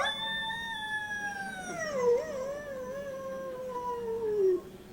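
A dog howls in one long, wavering cry that slowly slides downward in pitch, loud and close, before it cuts off near the end. No one speaks.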